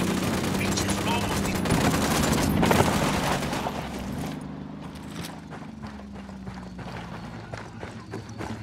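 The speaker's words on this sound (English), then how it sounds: "Opening fire." Heavy Ghost Recon Wildlands firefight gunfire roars in a dense, sustained barrage, then thins to scattered sharp shots, with voices talking underneath throughout.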